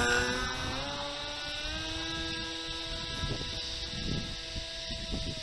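Electric motor of a Hobbyking Go Discover FPV wing running at throttle, a steady high whine with buzzy harmonics, slightly rising in pitch, close and continuous over light wind, no talking.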